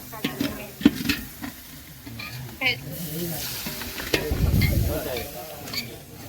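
Besan stirred into a sizzling dal tempering in a pan, a steady frying hiss with scraping stirring strokes, up close, while people talk briefly over it.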